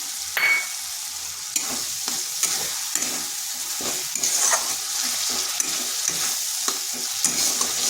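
Soaked chana dal is stirred into a frying pan with softened, melted tomato: close, rhythmic scraping strokes over a continuous bright sizzle.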